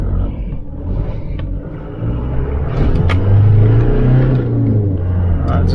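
A Holden Isuzu Rodeo with a weak engine and a faulty mass airflow sensor drones steadily from inside the cab at around 80 to 90 km/h, a low rumble that rises slightly as it pulls.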